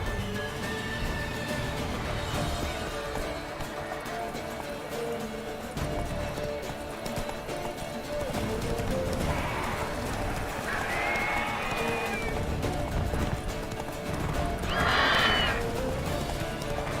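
Roach the horse galloping in The Witcher 3: Wild Hunt, with a steady clip-clop of hooves and an occasional whinny layered under game music and shouted voices.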